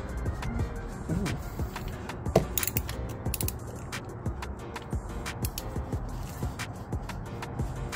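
A wrench works loose the 18 mm oil drain plug on a KTM Duke 390 motorcycle, giving quiet creaks and ratcheting clicks with a few sharper metallic knocks against a faint background.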